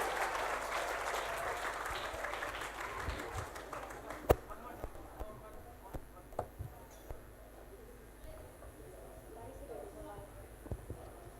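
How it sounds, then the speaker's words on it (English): A room full of people applauds for a student performance of the Meliwis Putih traditional dance. The clapping starts as a dense, loud wash, then thins into scattered individual claps near the end. "Give a very round applause."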